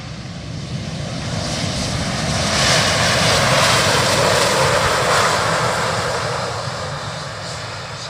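An Embraer E195-E2 demonstrator jet departs London City Airport, its engines a loud, broad roar that swells to a peak midway and then slowly eases off, with no talk.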